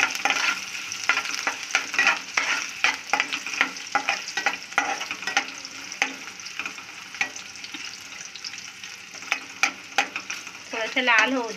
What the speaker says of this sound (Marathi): मेघाने आलं लसूण टाकलेलं आहे, ते परतून घेते तेलावर याचे आता चांगलं थोडंसं लाल होईपर्यंत.